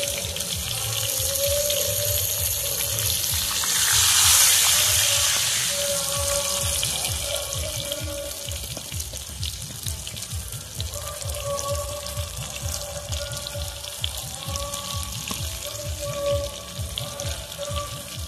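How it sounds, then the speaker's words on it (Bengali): Whole spices fry in hot oil for a whole-mango kasundi pickle, giving a steady, moderately loud sizzle and crackle that runs continuously with no voices. "ভেজে নিচ্ছি, কোনো গন্ধ করার ভয় থাকবে না, তাই ভেজে নিচ্ছি।"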